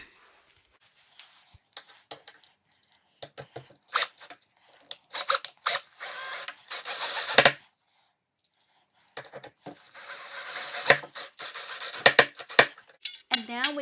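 Screws being driven by hand into a metal bracket on an Ikea MALM 6-drawer dresser: bursts of scraping, ratcheting turns with short pauses between, close and moderately loud, no talk.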